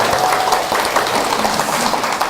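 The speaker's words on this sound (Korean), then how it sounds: "어디서 이렇게 되면 박수를 쳐주는 겁니다" Applause from a seated audience at a business presentation, a dense, steady wash of many hands clapping at full loudness throughout, with no distinct voices.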